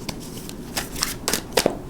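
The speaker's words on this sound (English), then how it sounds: "2 more shuffles, 8-card spread, please." A deck of tarot cards is shuffled by hand in several quick riffling bursts, close and crisp, with short pauses between them.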